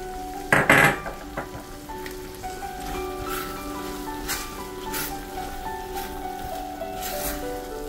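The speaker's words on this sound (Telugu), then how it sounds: "మనం ముందుగా వేపి పెట్టుకున్న జీడిపప్పు కూడా వేసేసుకుందాం." Fried cashews drop into hot ghee for Annavaram prasadam, starting with a sharp sizzling burst and a clink of the pan, then settling into a steady close crackle and hiss.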